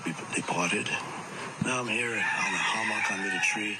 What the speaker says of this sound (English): You can hear the roosters crowing in the background.